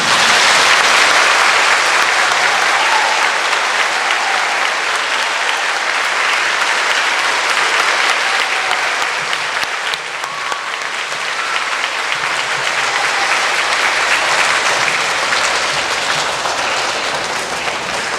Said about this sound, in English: I'm going to ask all of the Michie School staff and students to give you a big round of applause.